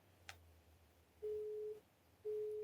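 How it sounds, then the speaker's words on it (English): A phone busy signal sounds over a faint hiss, two steady beeping tones with a pause between them, quiet and slightly distant, after a small click. "It's busy again."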